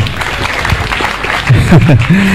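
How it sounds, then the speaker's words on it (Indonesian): Applause rings out from an audience, a broad clatter of clapping, with a voice rising over it toward the end. "Tepuk tangan untuk Bung Rocky Gerung."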